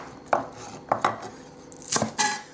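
A knife slices prawns on a board in a few distinct close thunks with short scraping strokes, spaced irregularly and loud against a quiet background.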